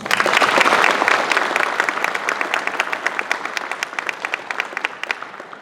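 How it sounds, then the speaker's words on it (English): An audience at a high school National Honor Society induction ceremony breaks into applause, loud and dense at first, then thinning into scattered individual claps that fade. "Please join me in thanking them with a round of applause"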